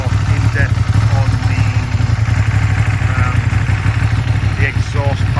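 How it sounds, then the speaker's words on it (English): A Ducati Panigale V2 motorcycle with 4000 miles on it idles loud and close with a steady low rumble and clattery texture, without a strong rev surge. "I'll give it a little rev for you. You can hear what it sounds like."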